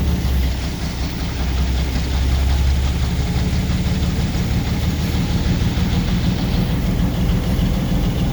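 Two locomotive diesel engines idling on the ETR railway, a steady, deep low rumble with an even mechanical throb that holds constant throughout, fairly close and with no speech.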